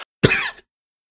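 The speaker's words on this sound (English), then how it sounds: "He turned to his 4 companions and cleared his throat." A man clears his throat once, a short, rough, close rasp of about half a second, set in a quiet audiobook reading.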